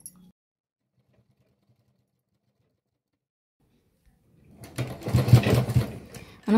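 After a long quiet stretch, a sewing machine starts up and stitches close by in a fast, rattling burst as it runs a second seam over fabric piping.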